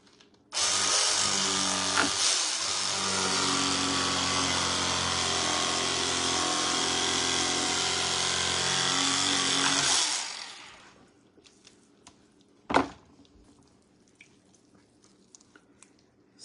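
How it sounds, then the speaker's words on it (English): An electric fillet knife buzzes loudly for about ten seconds, its reciprocating blades whining with a harsh motor tone while slicing a walleye fillet free, then cuts off, followed by a brief sharp knock and quiet handling noises. "I'm just pulling on the fish while my knife is moving to pop that fillet off"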